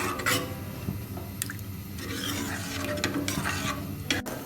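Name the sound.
coconut milk stew boiling in pot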